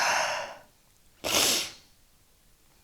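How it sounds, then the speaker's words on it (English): A single loud, close human sneeze bursts out after a quiet intake of breath, followed by silence. "Oh, I have to sneeze."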